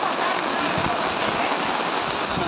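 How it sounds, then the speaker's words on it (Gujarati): Torrential downpour over Talangana village near Upleta, a dense, steady roar of heavy rain with no gaps, loud and close throughout. "તલંગણા ગામે ધોધમાર વરસાદ વરસતા 2 કલાકમાં 12 ઇંચ વરસાદ."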